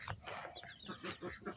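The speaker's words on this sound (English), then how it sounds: "This is the baby chick." Farmyard chicks peep and cluck in a rapid, slightly uneven run of short chirps, faint and close, with a soft background hiss and no talk.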